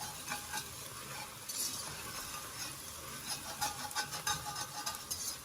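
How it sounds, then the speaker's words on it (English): A whisk scrapes around the sides and bottom of a pan of mushroom soup, a soft steady rasping with brief stronger strokes, fairly quiet and close, with no talking. "I'm going to use this whisk to scrape all around the sides and get all this goodness"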